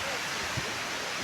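A waterfall about 150 metres below the Melamchi water supply roars as a steady, dense broadband rush that fills the whole moment, fairly distant and even, with no clear voices on top.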